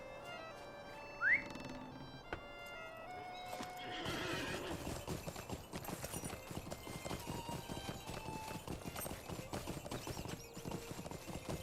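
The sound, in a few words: horse hooves clip-clopping and neighing in LOTRO video game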